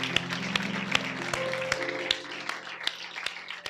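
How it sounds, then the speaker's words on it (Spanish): A church congregation claps for the Lord with a steady beat, sharp hand strikes roughly every 0.4 seconds over a sustained musical backing with held tones. "Dale un aplauso fuerte al Señor."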